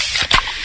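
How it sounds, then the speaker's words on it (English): A freshly opened can of fizzy Pepsi cola hissing, a loud, close burst of carbonated spray lasting under a second, with a brief sharp crack as the tab gives way. "that's the sound of a freshly opened fizz-filled Pepsi"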